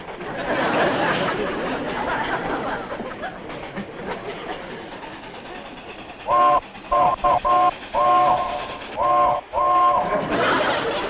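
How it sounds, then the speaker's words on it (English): A train rumbles and clatters along, then its whistle sounds in several short, sharp blasts, loud and close over the rolling noise. "What kind of a railroad signal is that?"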